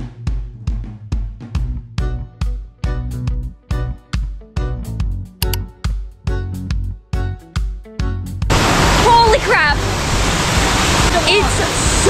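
A waterfall near Alicante, Spain: a broad, steady rushing roar that cuts in abruptly near the end after a rhythmic beat-driven stretch, with people talking over the water.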